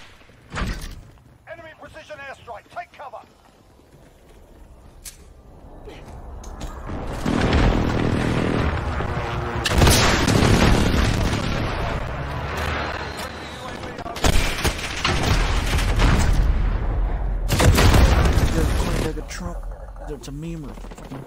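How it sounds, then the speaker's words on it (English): A precision airstrike lands in a first-person shooter game, heard as a series of heavy booming blasts and rumbling bursts over several seconds amid gunfire, loud and close, with a player talking over parts of it. "Enemy precision airstrike, take cover!"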